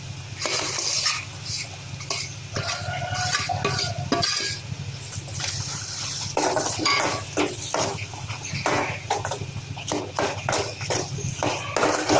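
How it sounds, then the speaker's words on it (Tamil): Spoon stirring grated mango and jaggery cooking in a pan for a sweet mango pachadi, with steady scraping strokes over a continuous sizzle and occasional clinks of utensil on metal, close and fairly loud throughout. "அடி பிடிக்காமல் இருக்கிறதுக்கு அப்பப்போ கிண்டி விட்டுருங்க"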